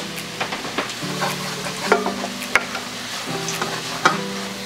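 Garlic frying in butter in a pan, with a steady sizzle under repeated scraping stir strokes and a few sharper clinks from the utensil, close and moderately loud.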